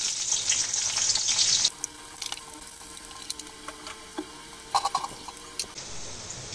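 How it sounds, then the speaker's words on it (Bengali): Onions and green chilies hit hot oil with a loud, hissing sizzle for under two seconds. Quieter scattered clicks and taps follow, and the sizzle returns briefly at the close. "তেলটা গরম হয়ে গেলে পেঁয়াজ আর কিছুটা কাঁচা ঝাল ভেজে নেব।"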